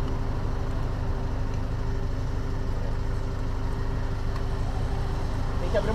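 An Omega car's engine runs at a steady idle, a constant low hum with a faint tonal whine throughout, while people talk nearby.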